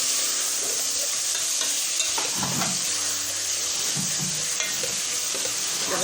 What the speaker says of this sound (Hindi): अब हम इसके अंदर कीमा डाल देंगे। कीमा डाल के अच्छी तरह से इसको